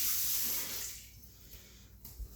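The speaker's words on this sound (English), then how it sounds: "I'm going to wet my spatula" Running water from a tap wets a spatula used for sushi rice, a close hissing stream that fades within about a second, followed by small clinks and quiet handling.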